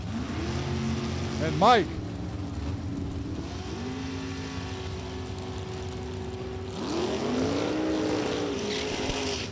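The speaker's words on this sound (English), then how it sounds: "2004 undercover chassis. Powered by 500 cubic inches of Chevrolet." A drag racing car powered by a 500 cubic inch Chevrolet engine at a raceway, heard as a droning engine with a rising rev and a second surge later, behind an announcer's voice over a loudspeaker.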